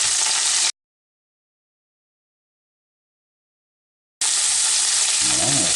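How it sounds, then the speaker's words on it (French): Shrimp with heads and shells frying in a pan make a bright, loud sizzle that cuts out completely for a few seconds, then returns just as strong. "on va se prendre un bon coup de friture"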